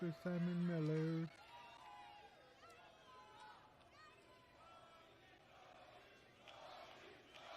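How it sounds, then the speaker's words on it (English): A wrestling arena crowd at an AEW Collision show roars and chants for Tony, a distant, diffuse rumble of many voices following a brief loud tonal sound at the start. "Crowd chanting for Tony."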